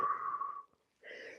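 A breath is pushed out during a stretching exercise, a short airy exhale followed by a brief pause and a second softer breathy sound, close and quiet.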